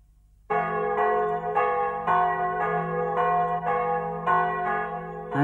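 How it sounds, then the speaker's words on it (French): Church bells across Paris ring out together, starting suddenly and then pealing loud and resonant in overlapping, rhythmic strikes that keep sounding until the end. "toutes les cloches de Paris se mirent à sonner ensemble."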